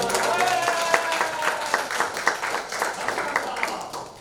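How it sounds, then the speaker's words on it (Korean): Church congregation at a Sunday worship service clapping in a scattered, continuous patter of applause, moderately loud and close, with a few voices mixed in. "자, 박수 드리겠습니다."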